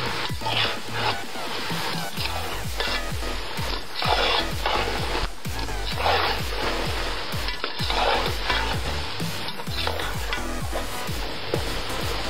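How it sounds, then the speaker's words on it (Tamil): Sliced mushrooms fry in a pot for home-style mushroom biryani while a spoon stirs them steadily, giving a loud, continuous sizzle with rhythmic scraping strokes close by. "அடுத்தது கட் பண்ணி வச்சிருந்த அந்த காளான் எல்லாத்தையும் இதில் சேர்த்துடலாம்."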